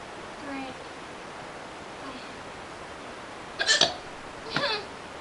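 Two quick, sharp hiccups come a second apart near the end, close and moderately loud over a soft hiss of background noise.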